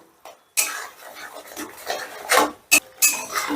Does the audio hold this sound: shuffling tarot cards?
no